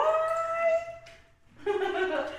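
Dogs in a building lobby howl in a drawn-out, wavering chorus, pause briefly, then break into another loud howl close by.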